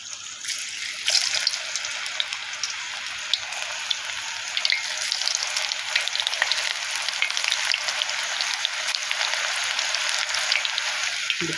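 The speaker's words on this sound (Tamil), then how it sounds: "இப்போ கொஞ்சம் கொஞ்சமாக நம்ம பக்கடாவை போட்டு பொரிப்போம்." Onion pakoda pieces dropped into hot oil in an iron kadai set off a steady, close sizzle, a dense crackling hiss that runs unbroken with small bubbling pops throughout.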